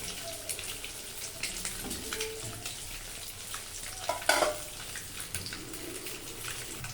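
Three eggs seasoned with salt and turmeric fry in oil in a pan, a steady close crackle and sizzle throughout with occasional stirring scrapes and a brief louder spatter midway.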